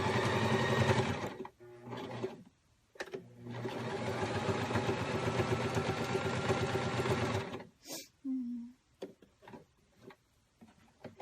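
A sewing machine stitches a tiered hammock in a steady, close whirring run of several seconds with a brief pause. It then breaks into short stop-and-start bursts and faint clicks near the end.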